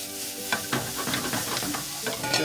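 Onions and celery sautéing in olive oil, a close sizzling hiss broken by spatula stirs and light clinks against the pan.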